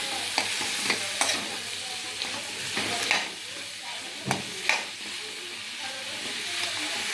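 Capsicum pieces fry in a hot pan with a bright continuous sizzle, while a spoon stirs them in scattered scraping knocks close by and no one speaks.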